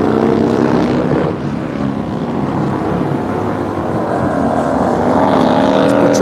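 An Indian racing motorcycle at a MotoAmerica qualifying run screams past on the track, its engine a loud, steady roar that rises and holds without a break.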